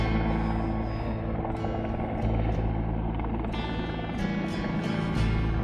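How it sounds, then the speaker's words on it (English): A helicopter drones steadily overhead during a search near a high mountain pass, its rotor thumping and engine whining at an even, fairly loud level with no talking. "As you can see, helicopter is searching"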